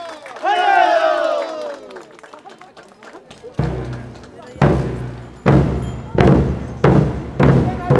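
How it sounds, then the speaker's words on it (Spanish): Crowd at an outdoor indigenous dance competition in Laja municipality, with a voice calling out over noise early, then rhythmic heavy thumps and bursts of crowd sound repeating roughly every second, loud and close. "Fuerte los aplausos,"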